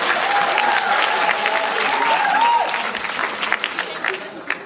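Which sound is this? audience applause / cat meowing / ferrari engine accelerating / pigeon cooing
audience applause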